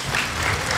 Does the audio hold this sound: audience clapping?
yes